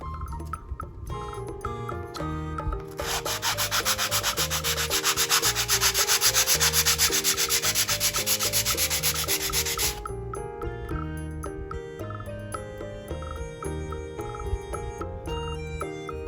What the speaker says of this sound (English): now that the fins are sanded down, they're all equal